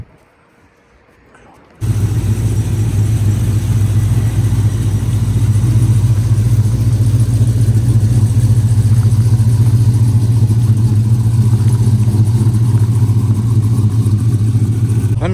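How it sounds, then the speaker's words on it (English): Engine fitted with an M122 supercharger blower, with belts squealing: after a short quiet start, a loud, steady engine drone with a continuous high whine runs unbroken for the rest of the clip, close to the listener. "we got some belts squealing"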